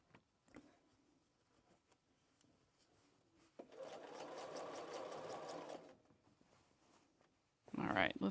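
Sewing machine running a quick burst of long basting stitches to hold fabric gathers in place, a steady mechanical whir for about two seconds between quieter handling rustles and short bumps.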